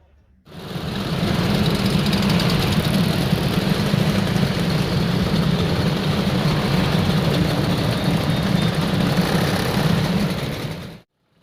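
Motorcycles idle and rumble together as a ride out leaves Castlefield arena at a St. George's Day parade in Manchester, a steady dense low engine drone that holds at the same level throughout.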